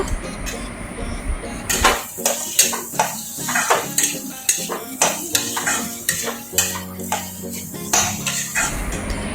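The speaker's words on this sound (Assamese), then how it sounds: "গোটেইখিনি আলু মছলাখিনিৰ সৈতে ধুনীয়াকৈ মিহলাই দিব লাগিব" Potatoes being stirred into spice masala in a metal pan, with a spoon or spatula scraping and clinking against the pan in a steady rhythm of repeated strokes, close and fairly loud, no talking.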